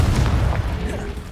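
The Confringo blasting spell in the game Hogwarts Legacy goes off as a short, deep, booming explosion, loud and close, dying away within about a second.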